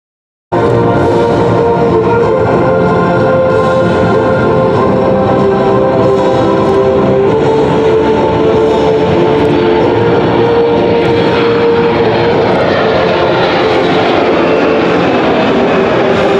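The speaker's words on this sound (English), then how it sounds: "KC-135 inbound for landing here at Joint Base Andrews." A KC-135 military tanker aircraft coming in to land at Joint Base Andrews, a loud continuous jet roar with a rising whine that builds steadily as it draws near, with no talking.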